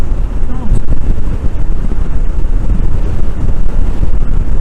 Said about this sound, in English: Can you hear this wind?